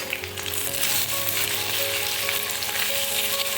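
Eggs with salt and pepper being scrambled in a hot pan, a steady loud sizzle and frying crackle with light stirring, no talking.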